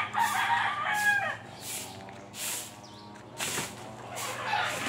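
A chicken close by gives several clucking and crowing calls in separate bursts over a quiet farmyard background.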